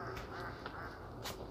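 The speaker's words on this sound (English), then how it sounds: "And I hear ducks. Do you hear ducks? They're quacking." Ducks quack faintly at a distance in Duke Gardens, North Carolina, with a few short calls scattered over soft outdoor background noise.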